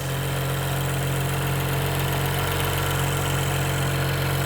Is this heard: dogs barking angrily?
no